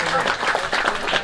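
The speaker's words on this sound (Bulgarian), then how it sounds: "аплодисменти още веднъж за отбор Quiz Time от Варна" Brief burst of audience applause for a quiz team at a quiz night, dense clapping with voices mixed in.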